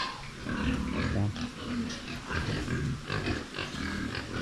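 Pigs on a farm, including a barako boar, grunt and snort close by in a continuous, overlapping stream of low grunts with no clear talking.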